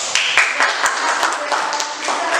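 A group claps steadily for a team presenting in a classroom, producing dense, continuous applause of many hands at close range with faint voices underneath.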